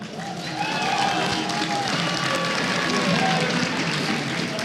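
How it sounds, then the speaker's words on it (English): Steady, loud audience applause fills the hall at a StarCraft 2 IEM 2015 Taipei semifinal, dense clapping mixed with crowd noise sustained from start to finish. "Everyone, let's give him a round of applause."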